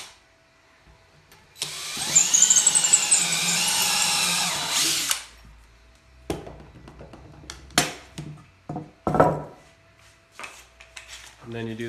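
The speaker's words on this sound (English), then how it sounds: "then use the holes that you already drilled to drill down" A power drill bores loudly into a wooden picnic table board for about three seconds, its pitch wavering under load, followed by clunks and knocks of tools being handled.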